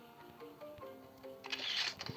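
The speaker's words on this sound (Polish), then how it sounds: "Czemu się włączył aparat?" A camera switches itself on, giving faint clicks and a short whirring mechanism noise that builds near the end, quiet and close in an otherwise calm room.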